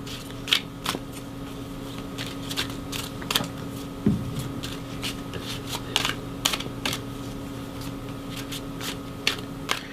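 Cards being shuffled and handled nearby, irregular crisp flicks and snaps scattered over a low steady hum, with no one speaking.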